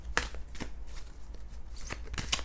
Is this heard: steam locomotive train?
no